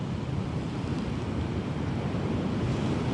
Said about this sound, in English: that sound of the waves crashing